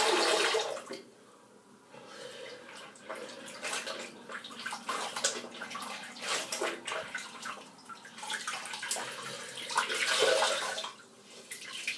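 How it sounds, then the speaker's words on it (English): A cloth is rinsed under running water in a bathroom after a straight razor shave, with a continuous close splashing rush and wringing surges that swell and dip. "I'm just going to rinse this cloth."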